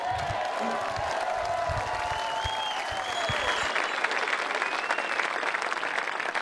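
A large crowd applauds and cheers loudly, dense clapping with whoops and shouts rising over it, steady throughout.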